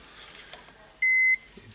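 A multimeter gives a single clean continuity-test beep lasting about a third of a second, clear and fairly loud against quiet workshop background, while testing an angle grinder's power cord.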